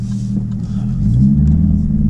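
A deep, steady Jaguar F-Type R exhaust rumble close by, swelling slightly louder partway through, with no talking.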